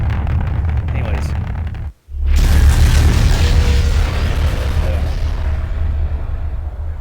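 Heavy missile blasts in Garry's Mod with the GBombs addon: a loud, deep booming roar, a sudden cutoff near two seconds, then a second sustained explosive rumble that slowly fades.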